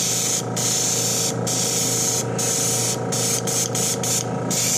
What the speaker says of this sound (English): I put a little cleaner in it and sprayed it through.